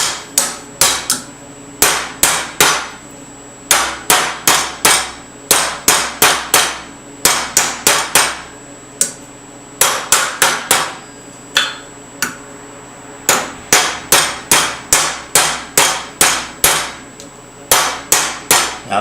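Metal being hammered to form it around a washer while fabricating a part for a 650 Yamaha/BSA scrambler, loud sharp close strikes in rapid bursts of regular blows separated by brief pauses, with no talk.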